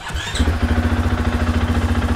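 A KTM 450 enduro motorcycle fires up inside a truck and immediately settles into a loud, close, pulsing single-cylinder idle with an even thumping rhythm that fills the enclosed space.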